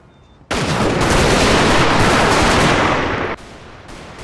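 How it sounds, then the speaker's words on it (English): Massed rifle volleys and continuous Gatling gun fire from a British square at the Battle of Ulundi in a Total War game, a loud, dense, unbroken barrage lasting about three seconds before it cuts back to quieter background. "Zulu regiments had to charge forward directly into massed rifle fire, non-stop fire from the Gatling guns, and the artillery fire at point-blank range"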